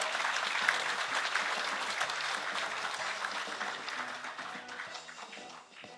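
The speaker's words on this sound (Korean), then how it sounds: "힘찬 격려의 박수 부탁드리겠습니다" Audience applause at the 2012 Korean labor union federation general delegates' convention, a steady, dense wash of clapping from a large crowd that holds for several seconds before tapering slightly at the end.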